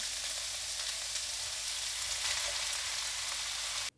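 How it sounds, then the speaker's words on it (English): Shiitake mushrooms and cabbage stir-frying for Japanese yakisoba, a loud, steady, dense sizzle with faint stirring, continuous and close, cutting off abruptly at the end. "Now we add in the shiitake and cabbage."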